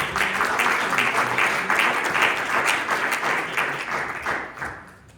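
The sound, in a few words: congregation applauding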